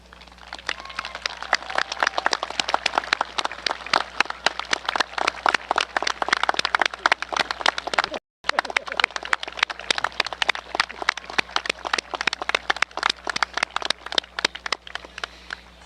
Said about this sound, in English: give them a giant round of applause to thank those important people